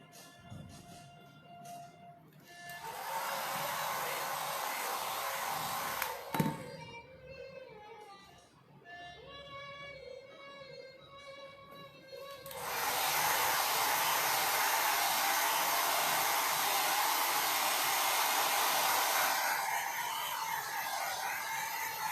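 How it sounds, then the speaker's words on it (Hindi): Hair dryer blowing on freshly applied paint, a loud steady whooshing roar that runs for a few seconds, stops, then starts again and continues strongly to the end. "इसको हम ड्राई करने के लिए मैं ड्रायर यूज़ कर लेती हूँ"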